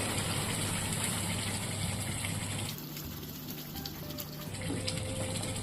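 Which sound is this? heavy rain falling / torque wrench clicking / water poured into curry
water poured into curry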